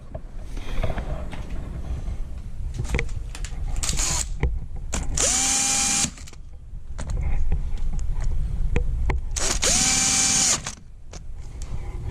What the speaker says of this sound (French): On va serrer le galet tendeur.